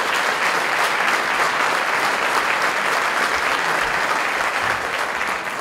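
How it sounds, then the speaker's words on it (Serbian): Steady, dense applause from a large audience at a Loznica city day ceremony, loud and continuous for several seconds with no break in the clapping. "ja vas sad pozivam da ih sve pozdravite velikim aplauzom"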